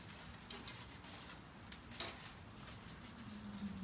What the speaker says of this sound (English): I can hear a little sizzle from the grease